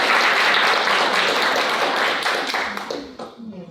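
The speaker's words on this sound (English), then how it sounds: "a round of applause then for Kelly" Crowd applause for Irish boxer Kellie Harrington at a speaking event, a full, lively burst of clapping with sharp individual claps that thins out over the last second as a voice begins.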